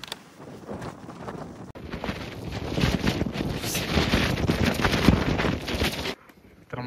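Wind gusting across a fog-filled mountain trek near Bhairavgad, buffeting the microphone in a loud, continuous roar that swells for several seconds and then abruptly drops away.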